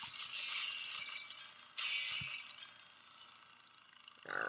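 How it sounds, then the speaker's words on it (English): Glass shatters in the Happy Wheels video game. There are two sharp breaking bursts, each followed by tinkling fragments, and a further crash begins at the end. The sounds are fairly faint and no one speaks. "Glass break and jet."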